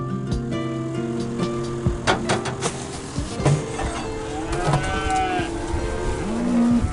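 Grazing cattle on a farm moo repeatedly, several low drawn-out calls close by, mixed with clanking and knocking sounds, with no one speaking.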